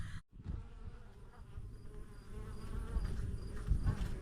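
Honeybees humming steadily around an opened hive, a continuous close drone from many insects that grows slightly louder toward the end.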